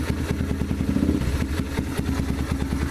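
A Yamaha TTR230 motorcycle engine runs after a carburetor cleaning, its close, even idle thumping in a fast regular beat throughout, with no talk.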